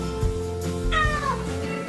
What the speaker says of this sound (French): Mon chat hurlait à la mort.